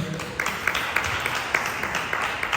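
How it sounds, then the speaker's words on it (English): A live audience claps for a guest at an evening fashion talk event at Pen and Brush, giving steady, even applause with small clap peaks throughout. "Got a round of applause going"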